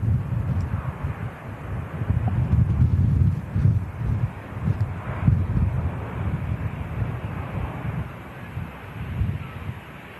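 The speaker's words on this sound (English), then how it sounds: "Another A320 with the sharklets, this time taking off over on the south side." An Airbus A320 with sharklets takes off at a distance, a low rumbling jet roar mixed with wind buffeting on the microphone, steady and fairly muffled.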